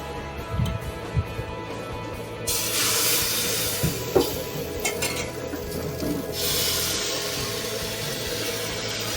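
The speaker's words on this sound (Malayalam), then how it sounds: "ഇനി ചീനിച്ചട്ടിയിൽ എണ്ണ തടവി അപ്പം ചുടാൻ പോവുകയാണ്" Appam batter cooking in an oiled pan, a soft continuous sizzle with a few light clicks and scrapes from the pan, moderately faint and steady throughout.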